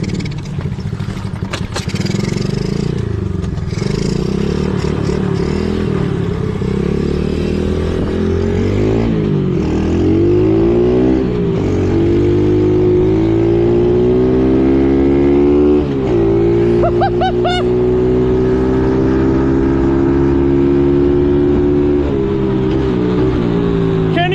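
Pit bike engine close up and loud, buzzing continuously as it revs and rides, its pitch sweeping up and down through gear changes with some clattering over roughly twenty-four seconds.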